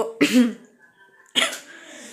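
Two short, harsh coughs close to the microphone, separated by about a second of quiet.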